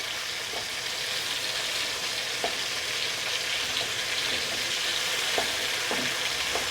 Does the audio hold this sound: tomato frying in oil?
yes